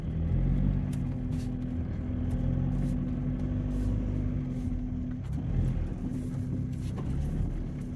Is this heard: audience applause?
no